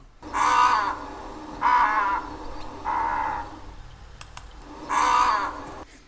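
Four loud, raspy croaking calls from grey herons at a nesting colony, spaced about a second apart with a brief pause before the last, with faint clicks in between.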